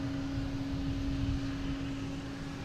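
At Boston Logan airport, an Airbus A220 airliner's engines hum as a steady, distant drone, with a sustained tonal whine running under broadband rumble.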